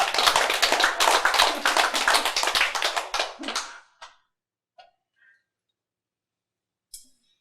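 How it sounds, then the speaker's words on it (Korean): A small audience claps in a quick, rhythmic patter for a few seconds, the individual claps distinct and fairly close, before it stops sharply, leaving silence and a couple of faint stray sounds. "박수 쳐."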